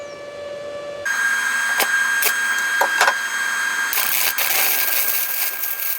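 Stick welding with a bigger 1/8 inch rod at 140 amps on an MMA200SE home welder, a steady close crackling hiss that starts abruptly and continues with sharp pops and intermittent bursts.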